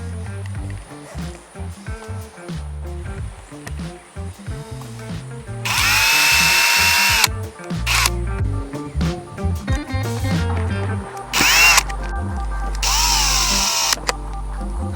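Power drill driving screws during an RV installation of a Haloview BT7 TPMS system, several loud bursts of high whirring that start and stop, with thuds and clatter in between.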